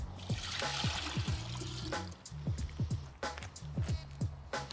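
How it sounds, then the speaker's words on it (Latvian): Water is poured into a vase as a steady trickling stream with gurgling glugs, heard close and continuous throughout. "Tāpēc ieliesim šajā vāzē ūdeni"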